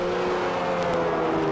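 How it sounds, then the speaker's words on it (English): A Jaguar XJR-15 engine, voiced with recordings of a real Jaguar engine, holds a steady, loud droning rev in a racing video game set at Spa. "the sound, we used sounds from a true Jaguar engine"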